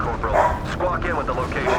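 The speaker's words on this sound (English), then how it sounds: "I apologize for the dogs making noise in the background if you can hear that." Dogs bark in a video game scene set in San Francisco during Resistance 2, sounding as repeated yips close under a radio voice that talks through most of the short stretch.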